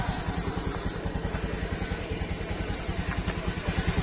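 A used motorcycle engine bought at auction idles smoothly and steadily close by, a regular low throb with light mechanical clatter and no talk.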